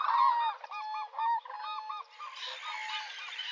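Wild geese and other waterfowl at El Hondo wetland honk repeatedly in loud, overlapping calls, close by at first, then give way to a busier chorus of softer calls from a dense flock.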